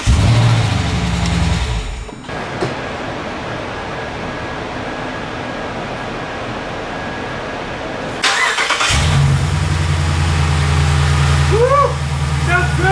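A 2021 Dodge Durango SRT Hellcat's V8, running with its supercharger disconnected, cranks after a long quiet pause, then catches and settles into a loud, deep, rumbling idle close by.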